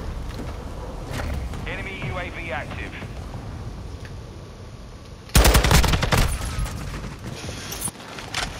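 In a Call of Duty: Modern Warfare II multiplayer match, gunfire breaks out midway as a loud burst of rapid automatic shots, after quieter mechanical clicks and game effects, with voice chatter around it.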